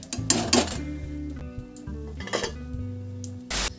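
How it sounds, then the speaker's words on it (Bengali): A metal lid set onto a pot of lentil and cabbage dal, with a few sharp clinks and rattles of metal against metal, close and fairly loud, with bursts near the start, middle and end. "এবার একটা ঢাকনা দিয়ে দেব।"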